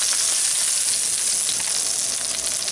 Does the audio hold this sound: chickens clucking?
no